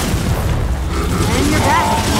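A grenade goes off in Gears of War 4 with a loud, close boom and rumbling burst, heavy low-end impact filling the moment among battle noise.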